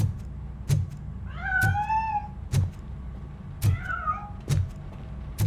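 A cat in the video game Robocop: Rogue City gives two drawn-out rising-and-falling meows, clear and near, between regular soft thumping footsteps.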